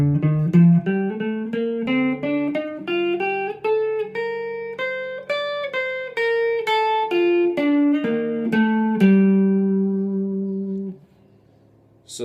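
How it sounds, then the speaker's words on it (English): Guitar runs up a Dorian scale and comes back down through a descending arpeggio, a steady stream of clear, close single notes that rings out and then stops near the end. "that's the Dorian scale, and then I mixed in an arpeggio when you descend."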